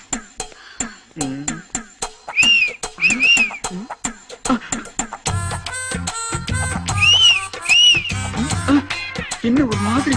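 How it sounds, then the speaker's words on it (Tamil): Whistling blown in short bright bursts, several repeated tones rising and falling among busy chatter, croaky sounds and background noise, fairly loud and close. "விசில் அடிக்கிற விசில்"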